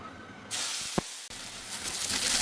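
Ground spice paste dropped into hot oil already tempered with a bay leaf and a dried chili, bursting into a loud, steady sizzling hiss that continues after a brief clatter.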